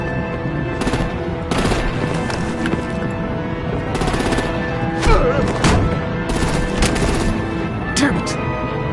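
Rapid gunfire from the Batman: The Enemy Within video game, with dense repeated bursts of shots that continue loud and steady throughout, mixed with other game sounds.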